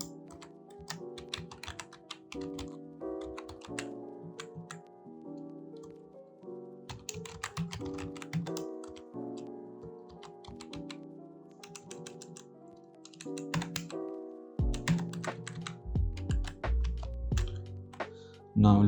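Code is typed on a computer keyboard in rapid, irregular bursts of crisp key clicks with short pauses between runs, ending in a few heavier thunks.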